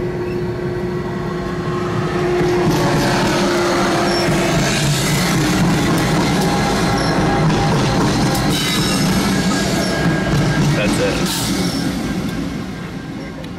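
A train of just a few engines rumbles past close by at night with steady roar, clattering wheels and high metallic squealing, fading slightly at the end.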